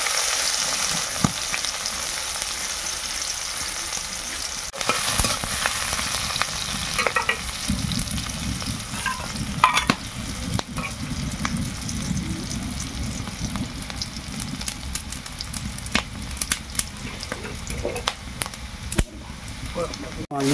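Onions drop into hot oil with dried red chillies in a Bengali village kitchen in the Sundarbans, giving a steady broad sizzle with stirring scrapes, with talk heard alongside throughout.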